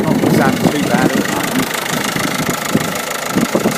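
A Ford Focus 1.6 TDCI diesel engine with a low oil pressure light idles close by, a loud, steady rattling clatter with irregular knocks, while someone talks over it.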